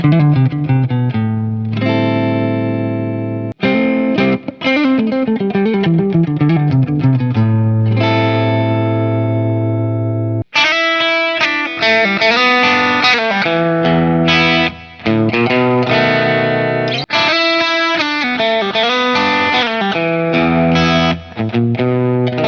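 A PRS SE Paul's Guitar electric guitar on its middle pickup position plays alone, with distorted chords and single-note runs that ring out loudly, then shift to brighter, busier phrases.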